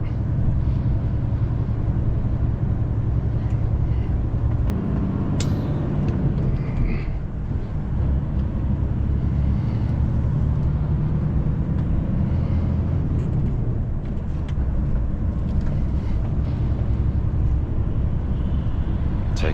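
A heavy recovery truck towing an electric bin lorry toward London drones steadily and close by on the road, its engine note shifting as it splits up half a gear, with continuous low rumble throughout.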